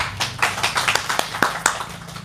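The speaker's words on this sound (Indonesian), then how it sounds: "kita boleh tepuk tangan" A few hands clap sparsely and unevenly, a small group giving brief scattered claps, near and distinct, with a low hum in the background.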